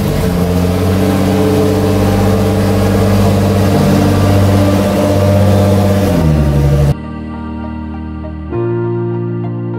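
A wrecked 2010 Nissan GT-R revs loudly and steadily up close for about six seconds, its deep engine tone holding before dropping off; a quieter, lower rumble of idling follows, then swells slightly near the end.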